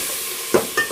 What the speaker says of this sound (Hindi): ये देखिए हमने इनको 2 से 3 मिनट के लिए हमने भून लिया